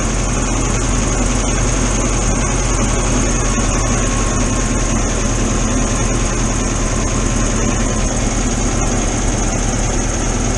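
A VW camper van engine idles after its idle screw is adjusted, giving a loud, steady, close-up drone that holds even throughout without speech.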